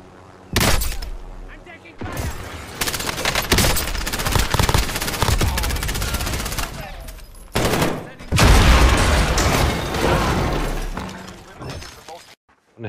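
Gunfire in Call of Duty: Warzone, heavy bursts of automatic fire and sharp cracks with shattering impacts. They come in loud clusters separated by short gaps, and voices talk over them.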